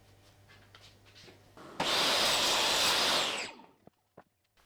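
A power saw cuts through wood for a DIY wood art piece in one loud, steady burst lasting under two seconds, then stops abruptly, followed by a few faint knocks.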